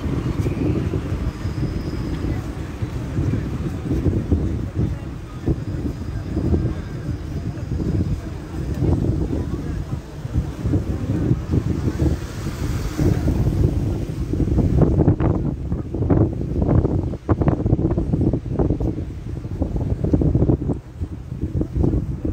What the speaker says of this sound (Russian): Ужасный ветер.